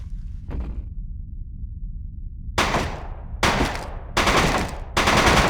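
Rapid-fire weapon shooting in the GameCube game Die Hard: Vendetta comes as four loud, close bursts of automatic fire in the second half, following a single faint shot early on and a quiet stretch.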